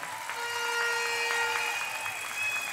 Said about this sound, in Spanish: aplauso para ella, por favor